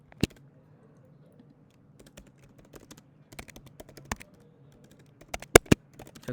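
Keystrokes on a computer keyboard while coding a factorial function: sparse, irregular clicks that bunch into short quick bursts near the end, with a low hum underneath.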